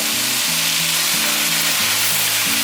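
Eggplant and Thai basil stir-fried in a hot pan, a loud steady sizzle with spatula scrapes and stirring knocks running the whole time, no voices.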